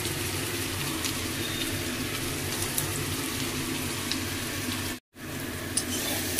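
A spice paste of ground ginger, ground cumin, half a tomato, chilli powder and a little sugar fries in a pan in a Bengali home kitchen, giving a steady, soft sizzle with one brief break.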